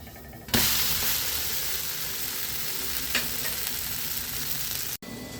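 A masala dosa sizzles loudly on a hot pan right after being flipped, a sudden burst of frying hiss that holds steady and close, with a brief scrape partway through and no talk.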